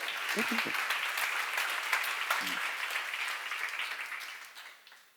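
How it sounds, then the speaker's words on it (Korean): Applause from a congregation at a church Bible seminar, a sustained wash of clapping filling the room with a brief voice underneath, then tapering off at the end. "지금 여러분과 나중에도 볼 자가 있는 거면 빨리 박수야."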